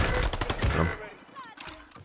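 Gunfire in the Warzone video game, a quick burst of several shots up close at the start that fades into quieter distant shots, with some voice mixed in.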